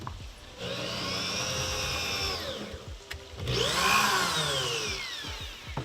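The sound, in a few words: drill pre-drilling screw holes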